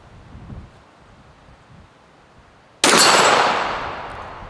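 A single sharp pistol shot cracks out near the microphone against a quiet outdoor background, its report ringing off a steel gong and fading slowly over the following seconds.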